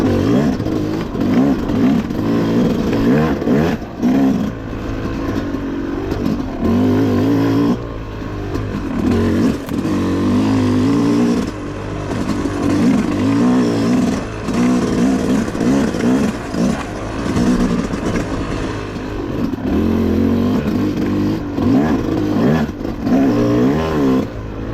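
A 2025 Yamaha YZ250X dirt bike rides the Wambaw OHV North short and intermediate trail loops, its engine droning steadily and close for the whole stretch, rising and falling with throttle changes and no talking.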